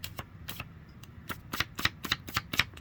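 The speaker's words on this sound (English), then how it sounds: "I love the sound of paper." Paper zine pages are handled and flipped up close in a quick series of crisp rustles and snaps, about ten in under three seconds and growing a bit louder, with no voices.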